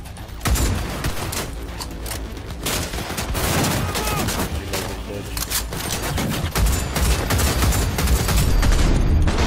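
Sustained gunfire in a video game battle, bursts of rapid shots and automatic fire overlapping continuously, loud and dense throughout.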